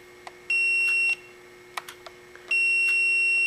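Two long steady electronic beeps from a multimeter's continuity test across relay contacts, each lasting about half a second or more, separated by small clicks and handling noises, with no talking.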